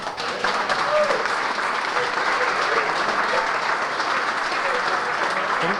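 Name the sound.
audience applause at alumni induction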